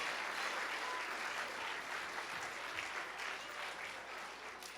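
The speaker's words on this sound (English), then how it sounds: "Give Daniel a big round of applause" An audience claps in a church during a Christmas comedy night, a sustained, even round of applause filling the room without a break and heard up close.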